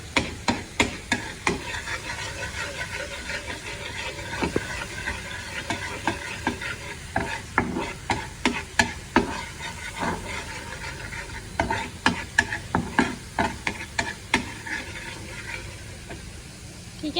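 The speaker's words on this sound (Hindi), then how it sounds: "अभी मेरे पास कैप्सिकम है तो मैं ये डाल दूँगी। इसका थोड़ा सा सौटे कर लेंगे" Capsicum sautéing in a pan, with repeated sharp scraping and stirring knocks from a spatula over a steady background hiss, close and fairly quiet, no talking.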